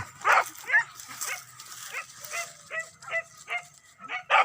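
A dog in a corridor gives a series of short yips and whimpering barks at an irregular rhythm, moderately close and fairly faint, with some human voice mixed in.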